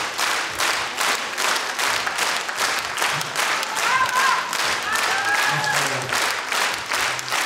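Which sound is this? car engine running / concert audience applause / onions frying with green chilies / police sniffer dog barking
concert audience applause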